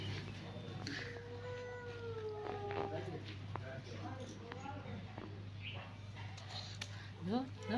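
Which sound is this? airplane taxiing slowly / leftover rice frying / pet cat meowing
pet cat meowing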